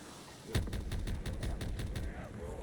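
Rapid gunfire rings out in Black Ops 3 Zombies on the custom map Shoot Haus, a sharp volley starting suddenly and continuing as a steady string of loud shots.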